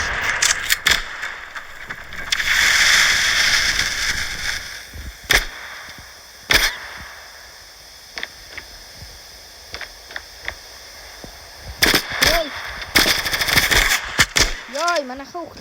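Gunfire in the mobile shooter Standoff 2 comes as sharp, loud shots, sometimes single and sometimes in short clusters, spread across the stretch over steady game background noise. Other game effects join near the end.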